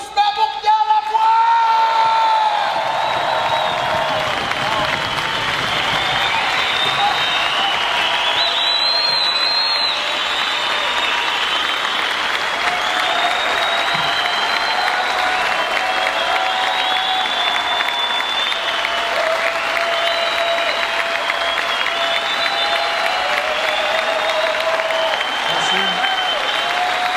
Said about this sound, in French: une main d'applaudissement pour Pierre Lavoie!